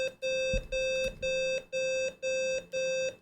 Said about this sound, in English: I hope you like beeping, because that's going to happen for a while.